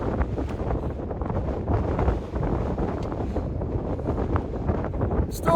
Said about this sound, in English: Strong sustained wind and super powerful gusts.